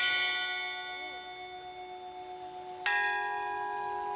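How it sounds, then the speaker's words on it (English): Notre Dame cathedral's bells ring with long, resonant tones that slowly decay, then a fresh loud strike near the end renews the sustained chime, heard alone with no voices. "the bells of Notre Dame ringing again."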